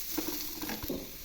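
Cut, washed vegetables fry with turmeric and salt in a pan for a mixed vegetable pickle, giving a soft, steady sizzle with faint stirring taps close by.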